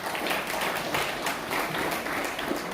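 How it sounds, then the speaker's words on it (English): An audience at a Hajj pilgrims' farewell gathering gives a round of applause, steady, fairly dense clapping heard throughout. "I think they definitely deserve another round of applause"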